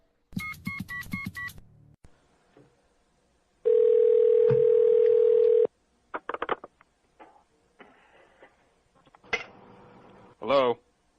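A telephone dial tone sounds as a call is placed back, a steady tone for about two seconds among beeps, clicks and handling noises, with a voice heard briefly near the end.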